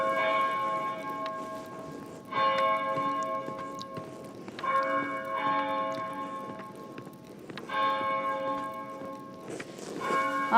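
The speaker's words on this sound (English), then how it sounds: "Bells are ringing." Church bells ringing in the video game Pentiment, struck in separate bursts of bright, sustained tones that decay between strikes, with a quiet ambient bed and no speech.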